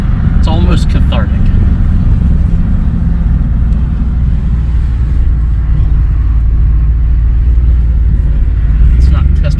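A Dodge Dakota pickup truck driving, heard from inside the cab as a loud steady engine and road rumble that continues throughout with little change.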